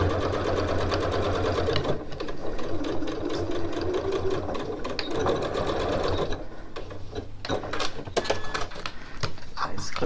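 A sewing machine stitches a reversible tote with a zipper pocket, its motor running in a steady close whir that briefly slows and restarts with quick ticking stitches.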